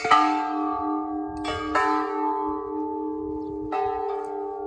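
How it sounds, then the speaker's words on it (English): Metallic wind chimes made from cut gas bottles ring out with long sustained tones, struck a few times and left to decay slowly in open air, fairly loud and close. "We got like wind chimes made out of cutting gas bottles here, and they are noisy."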